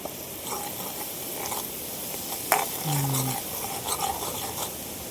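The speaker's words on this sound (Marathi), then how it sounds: "मसाले आपल्याला सगळे तळून घ्यायचेत" Spices sizzle in hot oil in a pan at a riverside cooking spot, a continuous frying hiss broken by scraping stirs and one sharp metallic clink of the spoon against the pan.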